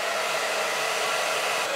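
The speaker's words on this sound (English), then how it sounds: "I'm also going to try this hairdryer for my wife, if it can run" A hair dryer powered by a Bluetti AC180 portable power station blows with a steady, loud, airy roar, running continuously and close with no voices.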